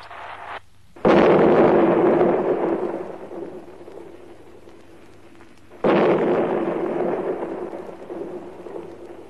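Two deep, booming blasts about five seconds apart from seismic oil-exploration ground explosions, each a sudden loud thud followed by a long rumbling decay.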